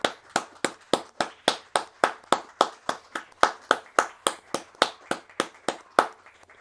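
Rhythmic unison clapping from a church audience, sharp regular claps in an even beat for several seconds, loud and close with no talk over it.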